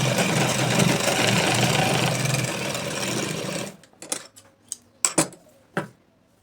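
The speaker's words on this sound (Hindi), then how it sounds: "तो अब हम सिलाई लगा देंगे।" A sewing machine stitches a bag made from an old shirt, running steadily for several seconds before stopping, followed by a few scattered clicks and taps.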